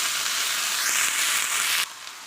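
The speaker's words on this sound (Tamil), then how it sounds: "கொத்தமல்லியும் புதினாவும் கொஞ்சம் கொஞ்சம் எடுத்துருக்கேன், அதையும் சேர்த்து நல்லா வதக்கிக்கலாம்." Coriander and mint leaves sauté in a hot pan with onions, giving a steady close sizzle and hiss that stops abruptly near the end, with no voices.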